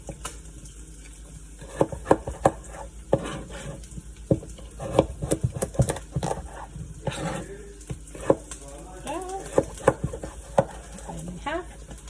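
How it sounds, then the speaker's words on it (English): Carrots being chopped with a knife on a board for a stir fry, giving a run of sharp, close taps in uneven bursts with some kitchen clatter between them. "And then chop away."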